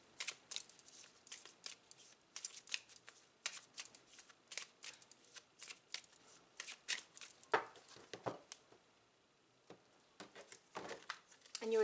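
Tarot cards are shuffled during a reading, producing repeated quick riffling and snapping bursts, close and fairly quiet, with short pauses between shuffles.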